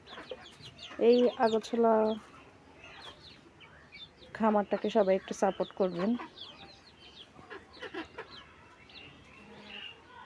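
Desi hens and a turkey on a small, untidy farm cluck and call in short bursts, mixed in with someone talking over them at close range.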